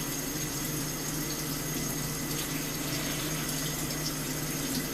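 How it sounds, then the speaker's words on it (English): Steady, full rush of cold tap water pouring over cooked macaroni in a strainer, a constant close hiss and splash with no breaks or talk. "I put on the cold water"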